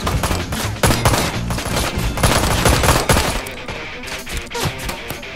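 Heavy gunfire in the motorcycle-gang action game Ride to Hell: Retribution as many enemies open fire. The shots are loud, fast and overlapping, with no pauses, and thin out slightly toward the end.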